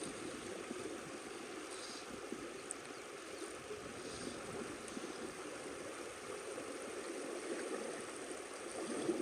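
Fast-flowing river in a remote spot, a steady broadband rush of water running continuously and fairly close, with no voices over it.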